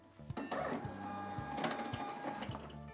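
Honeywell PM45 industrial label printer running a self-test, a steady mechanical whir with rhythmic motor pulses and faint clicks, close and continuous throughout.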